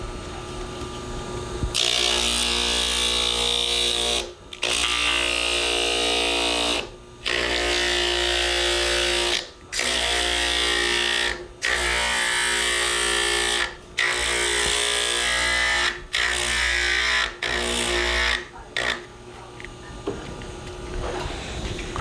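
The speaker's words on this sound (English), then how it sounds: "I'm going to just do a little quick machining of this to kind of show what this machine does" A machine running a rough cone bit to grind down pet brace material, a loud steady high-pitched whine in repeated bursts of about two seconds broken by short pauses, close up with no talking.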